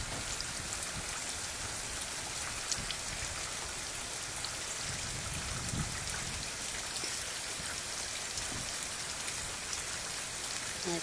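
Steady rain falls on trees and surfaces outdoors, a dense continuous hiss of raindrops with soft patters throughout, close and even with no voices.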